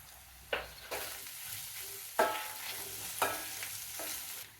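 Chopped onions with turmeric and ginger-garlic paste fry in a pan for mutton masala, a low steady sizzle broken by several sharp scraping stirs of a spoon against the pan.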